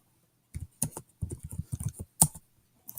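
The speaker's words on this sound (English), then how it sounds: "So I'm going to go ahead and type Friday." Quick bursts of typing on a computer keyboard, a cluster of crisp close key clicks with short pauses between them.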